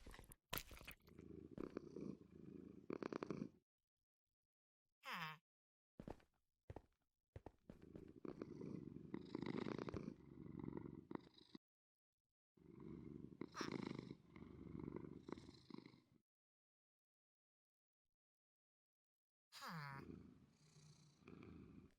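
Cats purring in the Minecraft video game, heard in repeated close, steady rumbling bursts separated by short silences, with people talking over parts of it.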